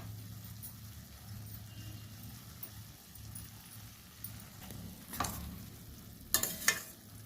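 Okra frying in a pan for a village-style okra and tomato gravy curry, a faint low sizzle with soft stirring and a few sharper utensil knocks near the end.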